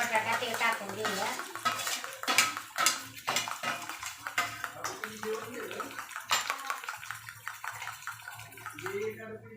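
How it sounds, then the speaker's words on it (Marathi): Fried cauliflower and potato tipped into an oiled pan and stirred, a busy run of clattering spoon-on-metal scrapes and knocks with soft sizzling beneath, close and fairly loud throughout. "तर आता हे आपलं हे जे फ्राय करून ठेवलेलं आहे ना फ्लावर आणि बटाटा ते टाकून घेऊया."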